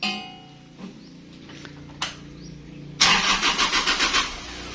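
A car engine is cranked and catches during a no-start check after a blown fuse, a short whir of starter attempts followed by a loud, close engine firing up with a rhythmic, pulsing run to the end.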